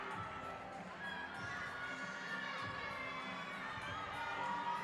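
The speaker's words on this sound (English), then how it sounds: "Southern cheering a successful routine from Cassidy Girolamo on the parallel bars" A crowd at a college gymnastics invitational at Yale, with Southern fans cheering a parallel bars routine, keeps up a steady roar of shouts and cheers throughout from a mid-distance.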